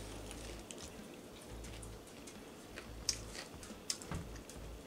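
Quiet, close crunching of a Taco Bell Grande Crunchwrap being chewed, with a few sharper crisp bites standing out against a soft background hum.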